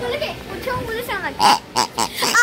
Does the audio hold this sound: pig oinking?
yes